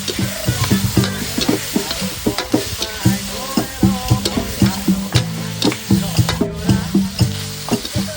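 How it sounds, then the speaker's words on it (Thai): Eel stir-frying in a wok with fish sauce and oyster sauce: dense, steady sizzling with repeated scraping and clattering of the spatula in a busy rhythm, loud and close, with no talking. "น้ำปลา ใส่ซอสหอย ใส่ซอสฝาเขียว แล้วก็ผัดทุกอย่างให้เข้ากันนะครับ"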